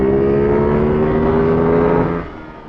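A Ducati Hypermotard 698 single-cylinder motorcycle fitted with a racing kit, revving loudly and close, holding a steady high note before dropping off near the end.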